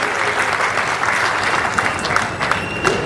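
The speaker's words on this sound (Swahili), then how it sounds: "Tupige tena makofi kwa Young Africans" An audience applauds Young Africans at a championship celebration speech, a dense, loud, steady wash of clapping from a large crowd lasting the whole moment.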